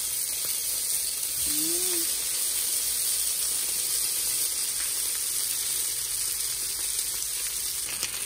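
Pork belly sizzles in a dry pan with no oil, giving off a loud, steady, close hiss that stays even from start to finish.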